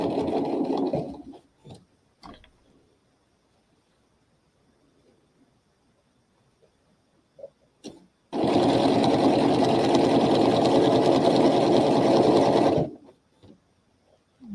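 A sewing machine stitches a fabric bag in one steady, loud, continuous run lasting about four seconds, preceded by faint handling noises and a long quiet stretch.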